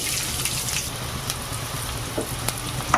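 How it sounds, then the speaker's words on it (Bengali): Chopped onion fries in a little oil in a wok (kadai), the pan having just been used to fry rohu fish; a steady, close sizzle hisses on for the whole stretch with no voices. "অল্প তেল আছে তেলে দিয়ে দেবো একটা বড় সাইজের পেঁয়াজ কুচি"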